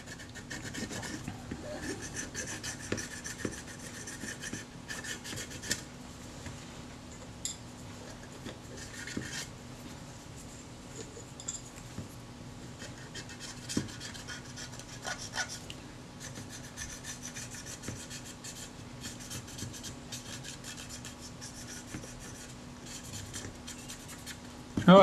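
Cloth rubbing with acetone over the body of a Retina Reflex S camera to lift faint leftover residue, a steady close scrubbing and rasping with a low constant hum beneath, no talking.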